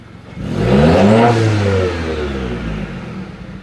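A 2017 Subaru Forester engine fitted with a TurboXS blow-off valve revs up loudly close by, rising in pitch to a peak, then falls back and settles to a lower, steady idle; no one speaks.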